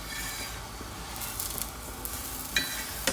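An aloo paratha sizzles and fries softly in a pan as it is flipped, a quiet steady crackle with a few small sharper pops near the end.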